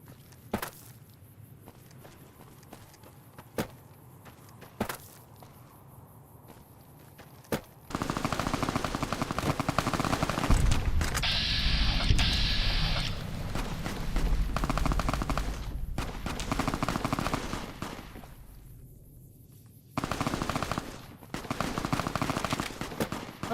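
Video game gunfire with rapid machine gun bursts rattles loud and continuous through the middle stretch, preceded by scattered single shots and footsteps, then a pause and another loud volley near the end.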